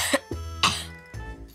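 Several harsh coughs from a sick boy sound close by, two sharp ones then a rougher, throaty one, spaced unevenly with short pauses.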